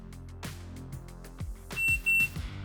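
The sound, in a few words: shot timer start beep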